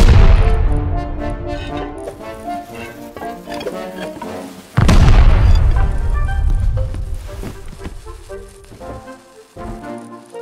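Explosion during a raid in the Rust video game, a sudden loud boom midway through, set amid ongoing crackling gunfire and scattered impacts, with no talking.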